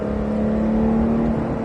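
Engine of a 991 Porsche 911 GT3 pulling hard on a race circuit, a loud, steady drone heard from inside the car that holds a constant pitch with no talking.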